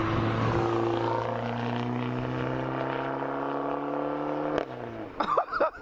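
Loud car with a straight-piped exhaust, heard from outside, holding a steady droning rumble with strong tonal harmonics for about four and a half seconds before a sharp change and rough, burbling revs near the end.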